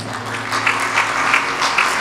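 A congregation at a sermon claps. The applause is moderate and steady and lasts about two seconds, with a few louder swells over a low background hum.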